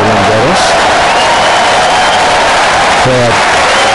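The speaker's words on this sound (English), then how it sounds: "Crowd is doing the wave." A tennis crowd at Roland Garros does the wave during a Nadal match, producing a continuous loud roar of cheering and applause with brief rising voice swells near the start and end.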